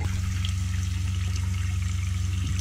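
Cold water runs steadily from the bathroom tap of a 2020 Coachmen Beyond RV during system sanitizing, a constant close splashing hiss over a low, pulsing pump hum.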